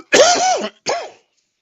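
Two harsh, close coughs, the first longer and the second shorter, with silence after.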